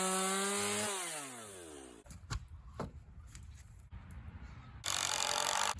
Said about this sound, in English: Now we just gotta chop it off with a chainsaw.